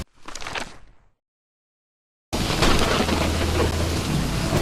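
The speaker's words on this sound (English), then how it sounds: "It's raining cats and dogs here." Heavy, steady rain in the video game Call of the Elder Gods pours in loudly after a short burst of rain and a silent gap, then continues as a dense, even hiss.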